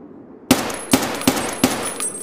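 Four sharp gunshots crack out at a steady interval in the video game Escape from Tarkov, loud and close, with a faint ambient hum underneath and no talking.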